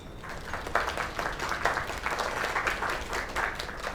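Audience applause, sustained crowd clapping with dense overlapping hand claps, fairly close and even throughout the few seconds.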